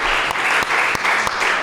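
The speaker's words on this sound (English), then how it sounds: "Can we give Adidas a round of applause for doing the DOS days and all this stuff?" Audience applause at an Adidas Das Days event in Los Angeles: steady, dense clapping from a crowd, loud and continuous throughout the short stretch.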